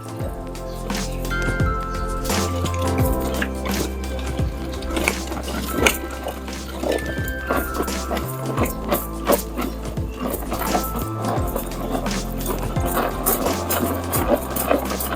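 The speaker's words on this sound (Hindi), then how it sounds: "तो मैं अभी चिकन को आपको मिन्स करके बताती हूँ।" A 4-in-1 mini food processor mincing raw chicken pieces, its motor whirring loudly and steadily in repeated pulses with short pauses between bursts, the blade churning the meat with no talking.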